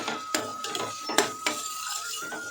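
Onions fry in a pan while a metal utensil stirs them, giving sharp, irregular clinks and scrapes against the cookware over a soft, low sizzle.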